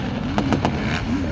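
Racing motorcycles at a bike racing championship at Budha Talab Stadium in Raipur, with a couple of short bursts of passing engine noise over a steady, wavering engine drone at moderate distance.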